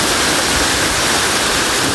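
Strong, steady rushing water fills an underground river cave after heavy rain, a loud, continuous roar with no pauses and no voices.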